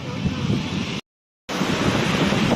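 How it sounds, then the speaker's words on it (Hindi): Strong wind buffets the microphone at a seaside spot on a Malaysia–Thailand border trip, a loud, rough rush that cuts out briefly mid-clip and then resumes. "हवा चल रही है, बहुत काफ़ी तेज़ हवा है।"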